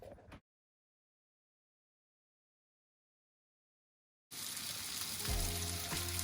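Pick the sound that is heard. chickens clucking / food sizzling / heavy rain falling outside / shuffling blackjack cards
food sizzling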